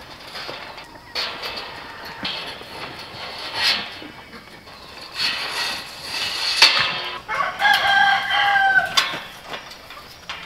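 Chickens on a goat farm cluck and crow in bursts of varying loudness, some close and some farther off, mixed with clanking mechanical noises from farm equipment.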